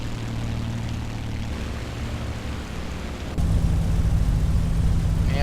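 Simulated P-51D Mustang propeller engine rumbling steadily while taxiing in the A2A Accusim flight simulator, a continuous low drone with a steady tonal hum that steps up louder partway through as power increases.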